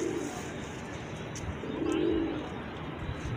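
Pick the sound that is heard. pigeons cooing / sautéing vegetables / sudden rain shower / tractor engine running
pigeons cooing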